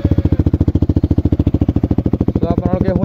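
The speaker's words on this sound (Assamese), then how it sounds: "বাইকখন ষ্টাৰ্ট দি দিওঁ" A Yamaha R15 motorcycle fitted with an SC Project CRT exhaust fires up and idles close by, a loud, rapid, even thumping pulse that swells slightly toward the end.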